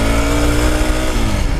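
A Hero Xpulse motorcycle engine revs loudly and steadily as the rider pulls away with a pillion passenger, the pitch shifting up under load, close to the listener.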